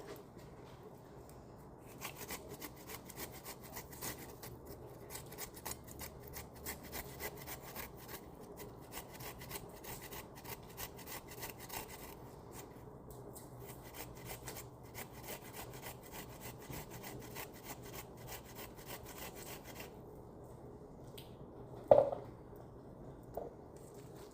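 Peeled fresh ginger rubbed against a flat plate grater, giving a steady, close, rasping scrape that continues in even strokes for the whole stretch with no talk, one louder knock near the end.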